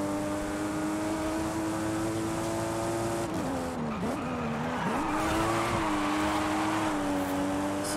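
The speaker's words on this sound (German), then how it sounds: "So, kleines Driftchen." A car drifting in the racing game Forza Horizon 5, with a steady engine drone whose pitch dips and wavers in the middle, then a loud, sustained tire squeal and skid hiss that fills the second half, with no talking.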